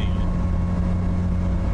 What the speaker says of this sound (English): the faster you go, the louder it gets. So it's definitely rear end. It's definitely differential, not transmission